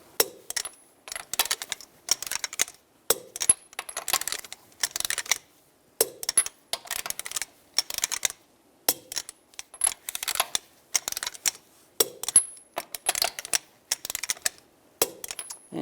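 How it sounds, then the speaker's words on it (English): A torque wrench tightens lug nuts with a 21mm socket on a 2005-2015 Nissan Xterra wheel, giving repeated bursts of sharp metallic ratcheting clicks. Short pauses separate the bursts, with a few louder snaps, close up and without talk. "Now we're going to torque the lug nuts to 98 foot-pounds in a cross pattern with a 21mm socket to tighten the wheel down evenly."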